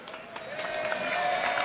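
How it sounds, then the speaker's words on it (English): At the 2017 AFL Draft, a large crowd breaks into loud cheering and applause as recently retired GWS Giants player Shane Mumford is welcomed to the stage, swelling quickly over under two seconds. "I think that's the second biggest cheer of the night, Shane"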